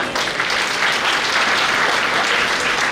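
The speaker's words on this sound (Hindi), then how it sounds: "तो एक बार तालियां आप सबके लिए बजनी चाहिए" A crowd at a career guidance program claps together in sustained, even applause, a thick uninterrupted rush of many hands with no voices on top.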